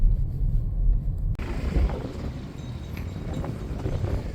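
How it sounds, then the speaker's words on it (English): Strong wind buffets the microphone in the coastal town of Gallipoli, Italy, with heavy low rumbling gusts that ease slightly after the first second and continue as a steady roar. "it's pretty windy"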